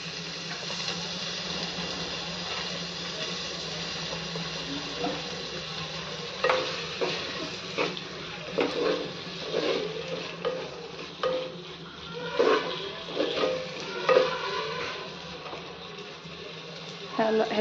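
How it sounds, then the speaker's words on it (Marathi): Soaked whole masoor lentils are stirred into pulao frying in a pan, with a steady sizzle under repeated scraping and clattering stirs that grow busier halfway through. "तो घालूयात आणि व्यवस्थित मिक्स करून घेऊयात"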